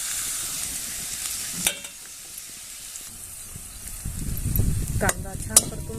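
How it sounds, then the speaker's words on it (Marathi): Cumin and mustard seeds crackle in hot oil with fried onion at an outdoor village cooking spot, a soft sizzle with scattered pops and stirring scrapes against a windy background, growing busier toward the end. "आता आपण त्यात थोडीशी जिरे मोहरी घालून घेऊया"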